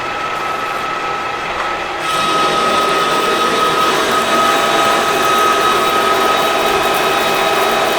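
A metal lathe turns steel, a loud steady mechanical whir with a high whine that steps up in level after two seconds as the cut begins, with no voices.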